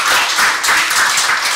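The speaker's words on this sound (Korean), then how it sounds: "우리 박수 좀 한번 해주시기 바랍니다" Church congregation applauding during a Sunday morning worship service, a steady, dense wash of many hands clapping together, loud and sustained throughout without pause.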